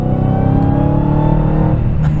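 A 2023 Dodge Challenger SRT Black Ghost accelerates hard in fourth gear, shifted with paddles. Its engine gives a loud, steady, close drone that climbs slightly in pitch, with no talk.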